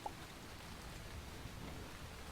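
Rain falling in the video game Starbound, a soft, steady hiss of game rainfall that stays even and fairly quiet throughout, with no talking over it.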